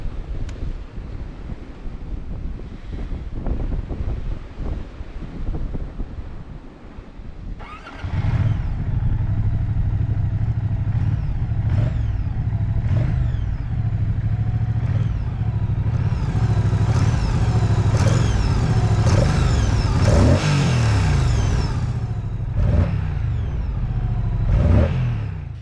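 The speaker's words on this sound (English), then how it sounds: "Oh, that glorious Guzzi rumble." A Moto Guzzi V100 Mandello carries a rider and passenger, its deep engine rumble steady and loud beneath heavy wind buffeting, rising with acceleration after a quieter, windier opening stretch.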